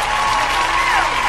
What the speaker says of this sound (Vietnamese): Hay thì đề nghị vỗ tay.